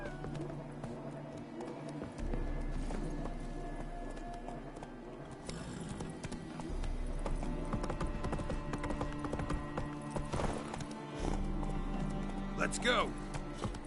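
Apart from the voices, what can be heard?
horse Roach galloping in The Witcher video game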